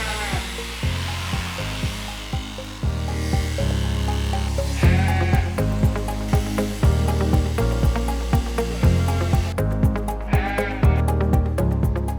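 Sheep bleat repeatedly on a farm during shearing, with several distinct bleats rising over a steady mechanical buzz that continues throughout at close range.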